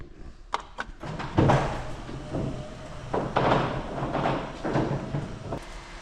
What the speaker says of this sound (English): let me open the garage door